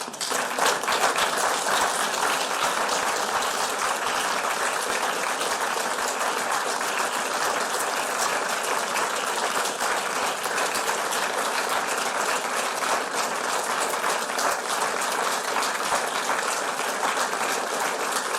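A standing ovation at a funeral, a dense, sustained wall of clapping from a large gathering, loud and unbroken throughout with no voices standing out above it.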